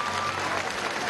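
Audience at a formal commemorative ceremony applauding visiting delegations from sister countries, a short burst of dense steady clapping heard at a moderate distance.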